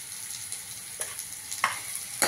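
A spiced cauliflower and potato vegetable dish fries quietly with turmeric, chili powder, black masala and coriander-cumin powder, giving a soft steady sizzle. A few light clicks of stirring break through it.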